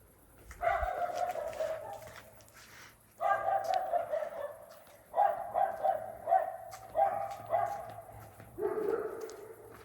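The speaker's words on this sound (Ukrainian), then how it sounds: "Собака так гавкають." A dog barks in several short bursts, moderately close, with pauses between groups of barks and no talking.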